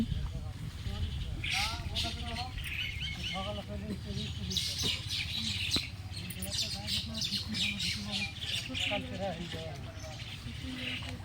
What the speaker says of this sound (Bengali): পাখিগুলো কত আনন্দ করছে।